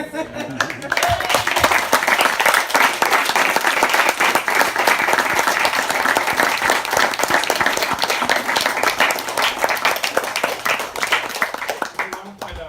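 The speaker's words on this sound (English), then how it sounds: "We should give you a humongous round of applause." Sustained applause from an audience after a talk on the future of life in the cosmos, loud and dense clapping that holds steady for about twelve seconds before tapering slightly.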